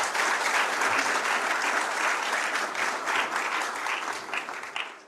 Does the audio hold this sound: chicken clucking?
no